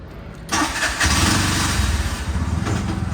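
A rented tuk tuk in Sri Lanka pulling away in first gear: a short quiet idle, then the small engine revs up sharply into a loud, throbbing, pulsing drone as the vehicle starts to move.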